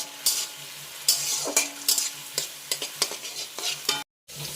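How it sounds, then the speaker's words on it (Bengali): Chili and potato frying in a pan with salt and turmeric, stirred with a utensil: a light sizzle broken by a quick series of sharp scrapes and clacks against the pan, close by, with a brief silent gap near the end. "দিয়ে ভালো করে এবার এটাকে ভাজবো"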